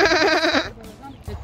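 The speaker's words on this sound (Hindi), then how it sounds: "ये देखें जी, लेस्टर के भेड़ बकरे" Sheep and goats on a farm in Leicester bleat loudly and close by in a strong, wavering call lasting over half a second, followed by quieter outdoor sounds and a voice speaking nearby.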